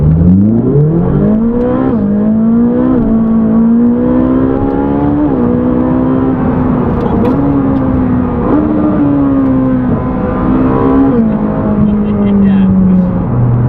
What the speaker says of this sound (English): we're gonna rev it out to 9 and see how it sounds